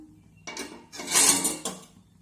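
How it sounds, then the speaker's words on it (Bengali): A lid lifted off a pan of brinjal slices frying without oil, a brief metallic clatter and scrape followed by a louder rattling clink, close by, then quiet. "পাঁচ মিনিট পর ঢাকাটা খুলে নিলাম"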